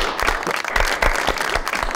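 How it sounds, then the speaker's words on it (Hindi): An audience bursts into applause, a dense, lively patter of many hands clapping close by for about two seconds. "बहुत सारी तालियां"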